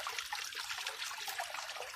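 Water trickles and splashes down a small DIY tiered waterfall fed by a 12V 20W DC pump over a plastic sheet, a quiet, steady, continuous babble with no voices.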